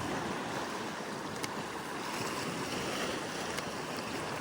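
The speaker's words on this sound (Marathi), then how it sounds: "लाट येऊ दे. कुठं गेली लाट?" Sea waves wash onto the shore in a continuous, even roar of surf, with wind buffeting the microphone throughout. No voices can be heard over it.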